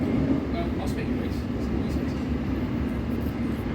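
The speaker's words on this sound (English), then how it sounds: "Nice Hitachi high-speed train." A Hitachi high-speed train rumbles past steadily with a broad, continuous roar, and someone speaks faintly beneath the noise.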